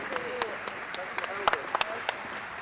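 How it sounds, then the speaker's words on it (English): Robotics conference audience gives sparse, scattered claps, fairly quiet and distant, mixed with faint murmuring voices in the hall. "Let's do a big round of applause for Helge."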